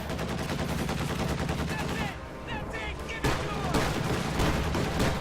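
A half-track's guns firing in a World War II real-time strategy game, a steady dense rattle of gunfire and battle noise running throughout, with a brief lull midway before the volleys pick up again.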